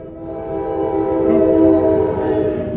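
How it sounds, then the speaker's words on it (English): A train rumbles past a rail crossing at White House station in New Jersey, a loud steady low roar with a sustained tonal hum swelling slightly and then easing, close and continuous. "Is it a freight train?"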